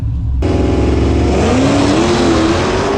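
A Dodge Challenger Hellcat Redeye widebody engine roars loudly from the start, then climbs in pitch as it revs hard and accelerates, aggressive and close.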